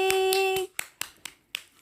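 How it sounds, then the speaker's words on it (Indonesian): A single person claps several times, in a sharp, sparse, slightly uneven rhythm, in a room during a kindergarten home-learning session. A steady electronic tone plays under the first claps, then each clap stands alone against a quiet background. "Tepuk tangan semua, karena tadi anak-anak sudah berdoanya dengan"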